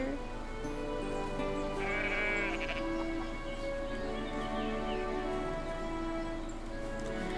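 Sheep bleat in the farming video game Everdream Valley, a few drawn-out bleats standing over a steady musical game background.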